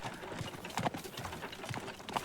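Horse hooves clip-clopping in the video game Teardown, faint irregular hoof knocks over a soft background hum, with no clear voice.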